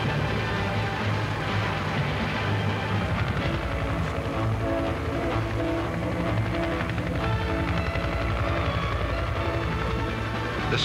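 A scout helicopter and two attack helicopters fly in formation, a continuous loud rumbling rotor drone with steady throbbing, sustained throughout without pause.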